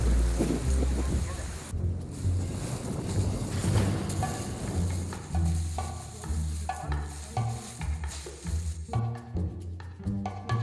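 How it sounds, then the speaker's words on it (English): Strong wind blowing outdoors, buffeting the microphone as a loud, continuous rumbling roar that dominates throughout, with faint tonal sounds underneath. "Ganz schön Wind."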